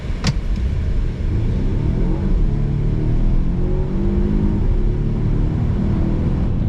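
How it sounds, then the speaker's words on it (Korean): Volvo XC60 Recharge plug-in hybrid with a 450 hp combined system output accelerates from 0 to 100 km/h at full power, heard from inside the cabin as a loud, sustained engine rumble and whir that climbs in pitch through gear changes, with no talk. "배터리 모드를 사용하지 않고 시스템 합산 출력 450마력이나 되는 풀토크의 모든 마력을 다 쏟아부었을 때의 제로백도 한번 보고 오시죠"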